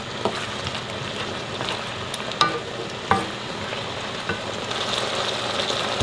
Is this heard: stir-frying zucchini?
yes